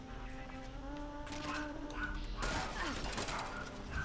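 Dogs barking inside the video game Fallout 76, a busy layered game soundscape with harmonic tones and a burst of clattering noise midway, steady and fairly loud throughout.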